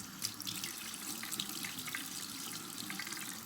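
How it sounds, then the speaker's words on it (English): A tap runs hot water steadily over a makeup brush being rinsed of soap, a close, even splashing hiss with no talk. "And then I normally would just let the water run right underneath it."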